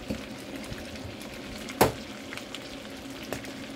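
Pig head sizzling and crackling in its own rendered fat in a pot for adobo, a steady dense frying hiss with scattered pops and one louder splatter, close by.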